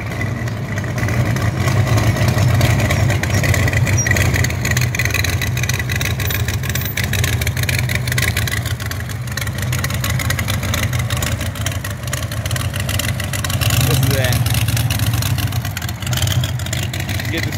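A 426 Hemi street rod engine rumbles loudly at a Mopar show, a deep, choppy idle that stays steady with slight surges, while crowd chatter and voices carry on around it.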